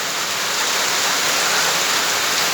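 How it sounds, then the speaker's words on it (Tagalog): Dense, steady downpour of heavy typhoon rain, a loud continuous hiss filling the space close by, with no voices. "Grabe, may bagyo po."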